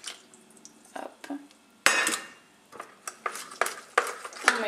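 Two spoons clink and scrape against a bowl while parsley vinaigrette is mixed, giving a series of quiet, uneven metallic taps and stirs with short pauses between them.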